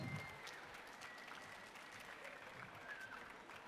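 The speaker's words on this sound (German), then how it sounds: "Applaus trotzdem, oder? Großen Applaus!" Faint audience applause at a convention award ceremony, a soft, continuous patter of distant clapping with a brief voice near the start.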